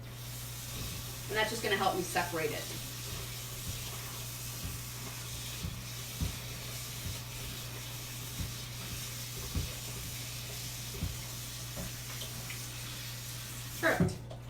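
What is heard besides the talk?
hot water from tap running over cooked macaroni pasta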